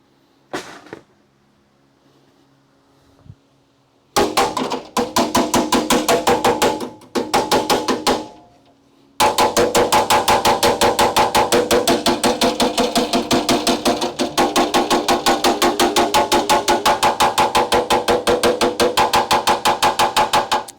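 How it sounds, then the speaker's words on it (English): A hammer striking a steel car frame rail, loud close metallic blows: a few separate strikes and short bursts, then a long fast unbroken volley of rapid hits that keeps going to the end. "Time to use the hammer to make sure."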